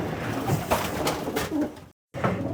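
A racing pigeon, a mealy hen, coos close by as it comes in through the loft's timing clock. Several soft, rounded coo phrases follow one another with a brief silent gap near the end.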